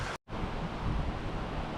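Strong wind gusting outdoors on a beautiful mid-afternoon in the New Zealand bush, a steady broadband roar buffeting the microphone, cut by a brief dropout early on, then loud and continuous.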